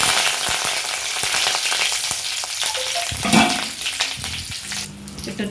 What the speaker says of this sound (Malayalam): കറിവേപ്പില ഒന്ന് നല്ല ഒന്ന് എണ്ണയിൽ പൊരിഞ്ഞ് വരണം.